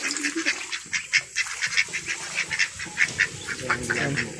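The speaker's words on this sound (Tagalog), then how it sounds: "Pato bibi." Ducks kept by a household quack repeatedly in an irregular series of short honking calls, fairly faint and slightly distant.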